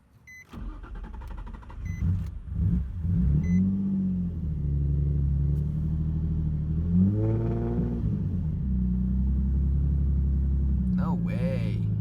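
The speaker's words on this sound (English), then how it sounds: "I'm just gonna take a random check and see if the car runs" A rear-mount turbo Nissan 350Z being cranked with a few stuttering attempts before the engine catches, then settles into a low, steady rumbling idle with a brief rev partway through; a person talks over it near the end.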